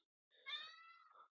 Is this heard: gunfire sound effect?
no